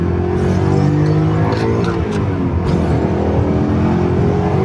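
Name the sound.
BMW E39 M5 Dinan engine accelerating hard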